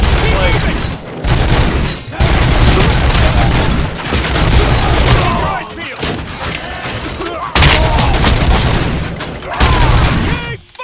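Heavy gunfire from a firefight in the RoboCop: Rogue City video game, loud sustained volleys and booming shots nearly nonstop, with brief dips between bursts and voices shouting over the battle.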